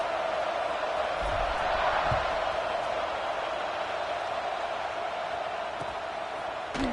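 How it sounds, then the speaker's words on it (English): A large crowd at a college football game in a stadium fills the air with a steady, distant wash of murmuring and buzzing noise, unbroken across the whole stretch with no standout cheers. "this crowd is buzzing after that last score"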